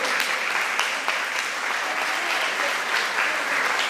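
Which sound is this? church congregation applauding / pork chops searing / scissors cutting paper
church congregation applauding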